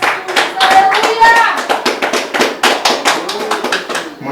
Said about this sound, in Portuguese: batendo as palmas para o Senhor e Salvador Jesus Cristo